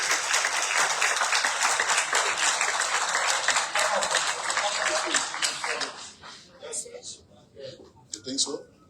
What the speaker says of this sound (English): Let's clap for them as they come forward.